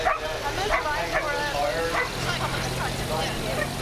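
A dog at a vintage vehicle rally gives several short barks and yips in quick bursts, close by and mixed under ongoing talk and background crowd noise.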